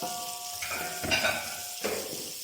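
Onion and chili fry in a hot pan for a chicken dish, a loud continuous sizzle broken by two or three stirring scrapes, with no talking.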